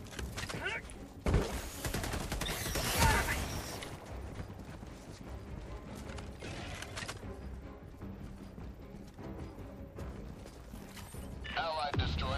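Gunfire rattles in a naval combat video game, with bursts of shots and heavy blasts over a busy backdrop of game effects, while players talk.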